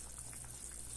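Water for chickpeas boiling in a covered pot: a steady, hissing bubbling and soft patter, close and constant, with no talk.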